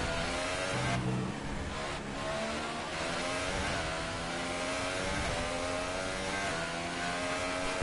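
A Formula 1 car from the F1 2018 racing game screams at high revs, its engine note holding steady and loud throughout with harmonic whine, briefly shifting as it powers through a corner, with no voices.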